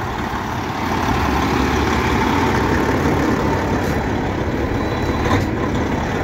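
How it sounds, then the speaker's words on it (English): A 2009 Sterling truck's diesel engine idles steadily to warm the oil, a loud continuous low rumble up close with no talk. "the first truck I started up, walk around that, keep the engine going, so we can get some warm oil"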